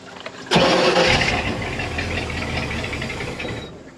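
An old outboard or inboard engine on a 1986 Shamrock 20 boat, long unused, cranks and catches with a sudden loud burst, then runs roughly at a steady mid-pitched idle with some knocking, close to the microphone.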